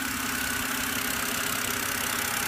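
A BMW engine idles roughly with a steady low hum and a faint uneven pulsing, running continuously up close with no talk over it.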